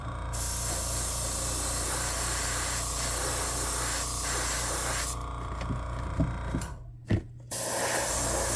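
An airbrush sprays a paint coat onto a crankbait fishing lure, giving a loud, steady close-up hiss that cuts off near the end, with a few small mechanical clicks and a short pause before the spray resumes.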